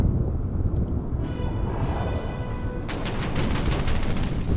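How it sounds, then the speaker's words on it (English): Battleship guns fire in the Order of Battle Kriegsmarine campaign, a rolling series of heavy booms and rumbling blasts that fills nearly five seconds, loud and with no talking over it. "And the battleship fires at the Dorado, that's perfect."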